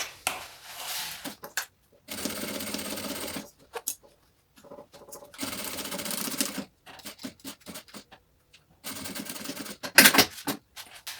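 A sewing machine stitches the side seams of a fabric pouch in several loud, fast whirring bursts separated by pauses, with clicks and handling noises between runs.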